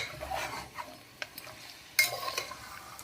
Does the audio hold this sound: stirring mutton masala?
yes